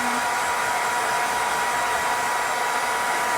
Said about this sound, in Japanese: ドライヤーかけるの苦手すぎて